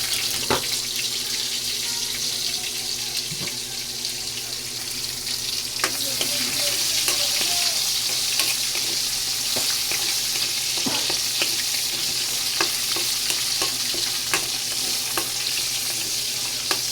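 Onion sizzles and is stirred in a pan for adobong kangkong, a constant close fry with scraping and clinking of the utensil, without talking.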